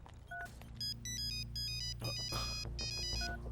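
Phone ringing tone on a call, repeated electronic tone bursts with a steady pattern over a low background hum, fairly clear and close, no talk.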